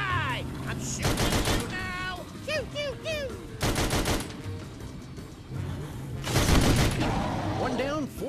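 Gunfire from the virtual reality game Sam and Max VR: several loud bursts of rapid shooting, separated by short gaps filled with quieter cartoonish game effects.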